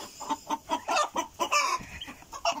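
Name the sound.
hens clucking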